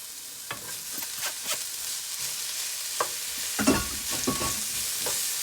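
Ground beef frying in a pan while being stirred, a steady close sizzle broken by scraping and clacking of the spoon at an irregular rhythm.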